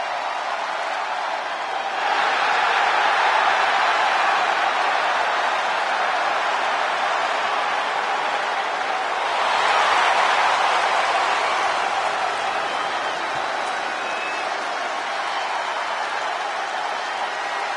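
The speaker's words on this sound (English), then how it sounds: "Listen to that crowd!" Video game arena crowd in WWE 2K24, a steady broad roar of cheering that swells twice, held at a moderate level with no distinct voices.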